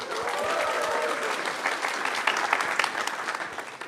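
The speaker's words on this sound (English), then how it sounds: "You're all clapping, you can clap now" A crowd applauds steadily, a dense wash of clapping that swells slightly and then starts to thin out toward the end.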